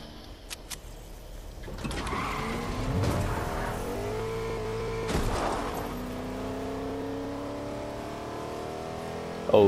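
A car in a video game accelerating and driving, its engine tone climbing and shifting through revs in a steady close drone with harmonic whine, a few clicks at the start and a bump near the end.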